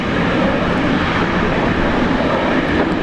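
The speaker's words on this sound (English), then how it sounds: "Virgin Australia, call sign Velocity, touching down." A Virgin Australia airliner lands at Brisbane Airport, producing a loud, continuous roar of engine and rushing air that stays steady and close throughout with no voices.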